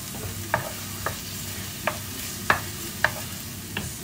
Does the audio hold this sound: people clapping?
no